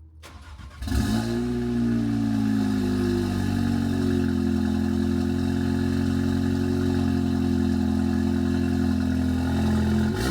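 A BMW 840i fitted with a cheap AliExpress downpipe and catback exhaust starts up with a brief crank, then settles into a loud, deep, steady idle rumble, close and without talk.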